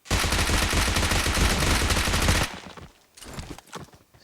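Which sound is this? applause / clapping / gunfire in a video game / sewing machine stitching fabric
gunfire in a video game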